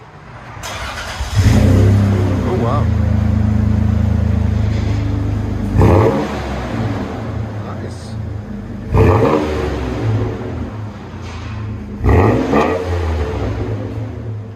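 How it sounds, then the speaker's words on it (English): A 2000 Toyota 4Runner 3.4L V6 engine revs hard three or four times through a deep, throaty Flowmaster Super 10 exhaust with a 4-inch tip, each rev rising then settling back to a rumbling idle; a brief voice reacts. "we installed a 4-inch black exhaust tip right there. We'll let you guys hear it in a second."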